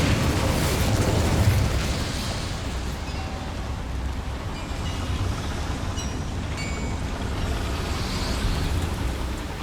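A fire spell, Incendio, cast in the Hogwarts Legacy video game, giving a steady fiery roar and rumble with low booming bursts throughout, with no other sounds standing out.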